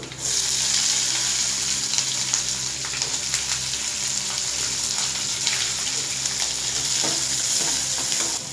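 Chopped garlic cloves and small shallots frying in hot oil for a dried-fish thokku, a loud, continuous close-up sizzle with occasional crackles and stirring, and no voices.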